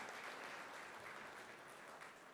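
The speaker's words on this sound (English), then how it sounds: "A round of applause for them as well" At an evening innovation awards ceremony, an audience gives a round of applause for the sponsors: continuous, even crowd clapping, fairly faint and distant, with no break through the short stretch.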